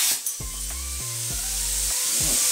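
A PLC 55 Pro CNC-capable plasma cutter cuts through metal with a harsh, steady hiss broken by several low, buzzing tonal bursts as the arc starts and stops, close and fairly loud.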